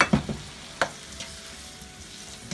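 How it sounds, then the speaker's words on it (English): Teriyaki sauce simmers and bubbles softly in a pan, with a few light scraping stirs near the start, then a quiet, steady sizzle continues on its own. "Just let that simmer here for a second"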